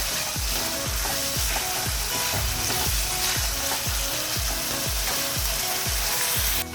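Vegetables sizzling in a pan for Bengali-style moong dal khichdi, a steady loud frying hiss with regular rhythmic scraping strokes of stirring, alone without talk.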